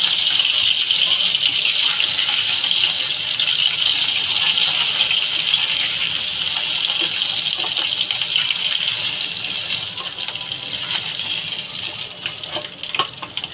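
Tengra fish frying in a pan of hot oil gives a steady, dense sizzle that holds at an even level throughout, with faint crackles near the end and no voices.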